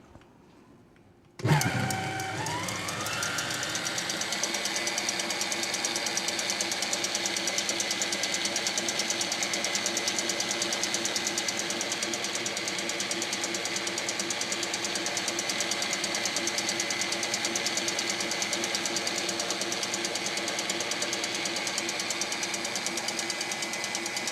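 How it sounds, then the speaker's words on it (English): Electric mixer whipping egg whites with saffron syrup for a semifreddo, a steady loud whirring drone that starts abruptly and runs on evenly with no talk. "then I'm going to keep it whipping until it cools down"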